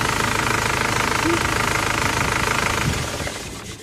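An Isuzu Crosswind engine with an overheating problem idles with the hood up, a steady loud rumble with a rapid knocking pulse that fades slightly near the end, while a person speaks over it.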